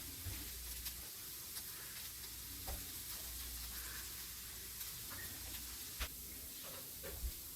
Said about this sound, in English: it's starting to sizzle a little bit